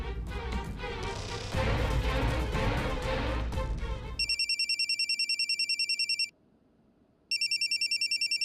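After a burst of loud music that cuts off, a telephone rings in repeated electronic trills, pausing briefly before ringing again, clear and close.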